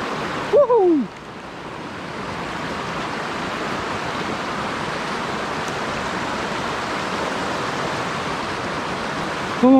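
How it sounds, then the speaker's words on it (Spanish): Steady, loud rushing of a small river's water fills the whole clip, a continuous broadband roar with a brief voice at the start. "hay mucho ruido de río."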